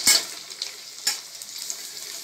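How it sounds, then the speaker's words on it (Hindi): Onions frying in a pan while chowmein is being cooked, giving a soft steady sizzle with a sharp crackling burst at the start and another about a second later, heard close up with no voices. "प्याज को भी 2 मिनट के लिए भून लेंगे"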